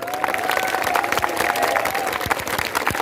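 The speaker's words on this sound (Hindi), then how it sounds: "इसका हम जश्न मनाएं तालियों के साथ।" A crowd at a protest rally claps and cheers, a dense patter of applause held steady throughout with a faint voice or whistle-like tone riding over it.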